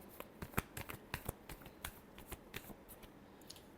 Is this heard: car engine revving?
no